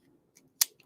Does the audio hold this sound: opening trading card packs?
yes